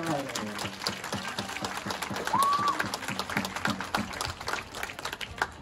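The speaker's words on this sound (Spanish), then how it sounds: "un aplauso a nuestro madre" Applause for the Virgin of Carmen at a patronal fiesta, many hands clapping in a steady rhythmic beat with crowd noise and voices over it, moderately loud throughout.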